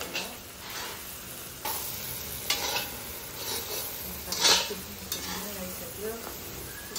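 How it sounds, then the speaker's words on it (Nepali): Chagra yak meat frying in a pan, with a steady sizzle under repeated stirring and scraping of a utensil against the metal, plus a few sharper clinks, close and moderately loud. "अब यो पनि भुटुवामा मिसाइदिने अनि पटपटी भुट्ने"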